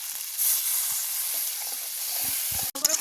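Water poured into a hot, oily fish roe gravy brings a loud, broad sizzling hiss that holds steady, with a few faint clicks and a sharp knock near the end.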